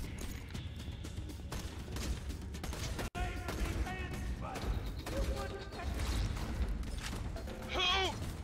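Pistol gunfire in Borderlands 2 fills a busy game mix of sharp shots, with one especially loud crack partway through, among mechanical clatter, creature cries and effects, while people talk excitedly over it.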